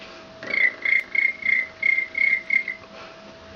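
A girl vocally imitates a cricket, giving about eight short, shrill, evenly spaced chirps in a steady rhythm, fairly close and clear against a quiet background.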